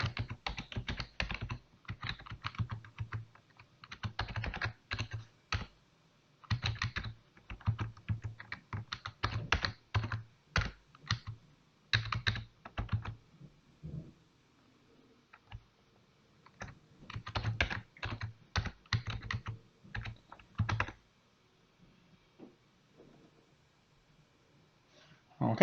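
A password being typed on a computer keyboard while migrating from GoDaddy to Office 365: bursts of close, rapid key clicks with short pauses between runs, then a quiet stretch, more typing and silence at the end.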